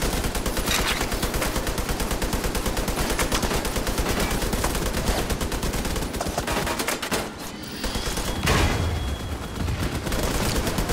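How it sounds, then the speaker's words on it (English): Sustained heavy gunfire in The Division 2 at Tidal Basin, rapid automatic bursts overlapping in a dense, loud fusillade with a brief lull before the shooting resumes. "All these things shooting."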